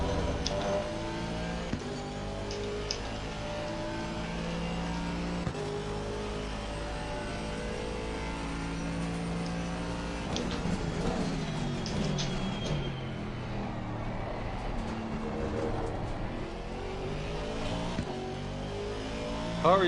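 Race car engines from Assetto Corsa Competizione at the Hungaroring in wet conditions, with a Porsche close behind: a steady, moderately loud engine drone with shifting pitch and occasional revving swells, no speech.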